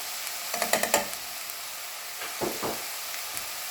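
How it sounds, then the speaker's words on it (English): Apple pieces with sugar and cinnamon are stirred for apple pie egg rolls, a quick run of close clinking spoon taps against a bowl, then a few softer scrapes and knocks. "And then you're going to stir that one."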